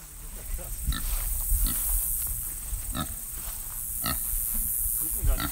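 Pigs grunting and oinking in a farm pig pen, several short bursts at irregular intervals over steady outdoor background noise, with people talking in the area.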